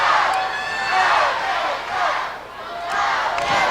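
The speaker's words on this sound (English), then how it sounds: "The crowd picking up the cheers." Wrestling arena crowd cheering and shouting in waves, a loud sustained roar of many voices that swells and dips throughout without pause.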